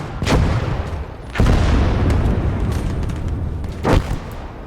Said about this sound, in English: So now we get into an artillery duel with this artillery